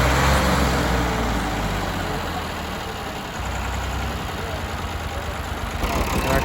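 A tractor engine idles close by with a steady, heavy low rumble that holds for several seconds and stays loud and continuous.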